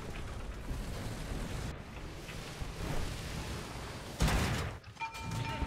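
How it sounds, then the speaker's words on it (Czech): A tank explodes in the War Thunder video game, a sudden heavy boom cutting through a constant rumble of battle noise, followed by a few metallic rattles. "Kaboom."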